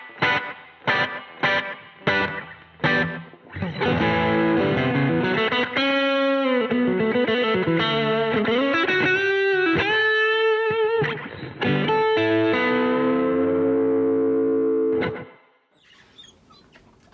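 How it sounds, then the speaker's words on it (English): Electric guitar run through an Empress Echosystem pedal, combining spring reverb with slapback delay: picked notes and a sustained distorted melody with a bending slide, ringing echoes and a reverb tail fading into silence. "So let's combine the spring reverb, how I like to use it, with the slapback."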